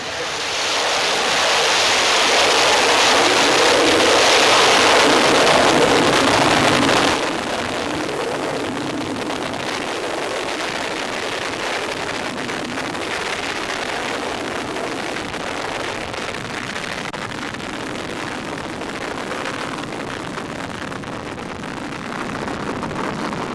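The Astra Rocket 3 launches with a roaring, broadband engine rush that is loud and wind-like. It surges strongly for about seven seconds and then settles into a steady, rumbling roar that lasts to the end.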